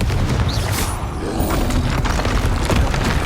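The Confringo explosive spell in Hogwarts Legacy, a loud booming blast heard amid dense combat noise with a low rumble and some mechanical creaks, and no talking over it.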